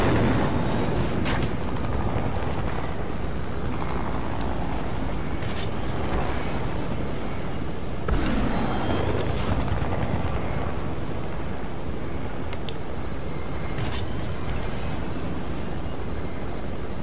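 A helicopter in the Fortnite video game flies close by, giving a steady, loud broadband roar of rotor and engine noise that holds through the whole stretch with a few brief swells.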